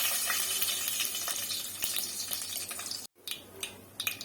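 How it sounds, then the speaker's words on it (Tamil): Cumin seeds spluttering in hot oil, a dense close crackle and sizzle with sharp pops, broken by a brief silent gap near the end before the sizzling picks up again more unevenly. "சீரகம் போட்டுக்கோங்க ஜீரகம் நல்லா பொறிஞ்சிடுச்சு"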